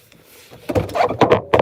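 A police car door is slammed shut, heard as a solid thud with a rattle after a quiet lead-in, followed by a couple more knocking impacts close by.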